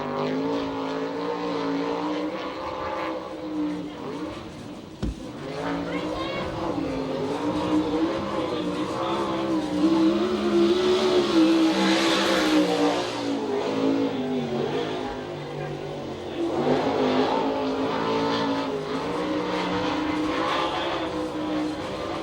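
USAC/CRA sprint car on a qualifying lap at Tucson, engine roaring and revving continuously with rising and falling pitch as it circles the track, loud and sustained.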